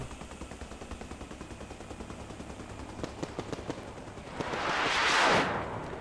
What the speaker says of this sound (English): Going for another strafing run.